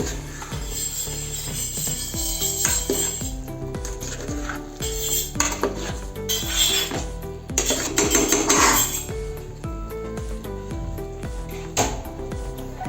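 A spoon stirs curd into aviyal in a metal cooking pot, repeated clanking and scraping of metal on metal in an uneven rhythm, close and fairly loud with no talk.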